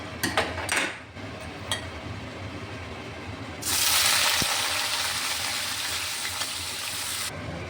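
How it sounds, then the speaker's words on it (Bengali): Salted eggplant frying in hot oil in a wok: a steady loud sizzle kicks in partway through and hisses continuously, after a few light clinks and kitchen clatter at the start. "প্রথমে আমি একটু বেগুনটাকে ভেজে নিচ্ছি"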